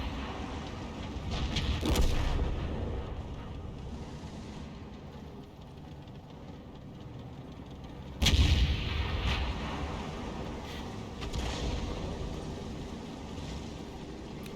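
Two heavy booms of a tank firing artillery rounds in a video game, one near the start and one past the middle, each with a sharp crack and long rolling decay over a quiet low rumble.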